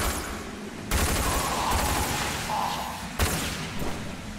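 Gunfire in the PC shooter Rage: a rapid burst of shots and thuds at close range, with a second sharp burst near the end.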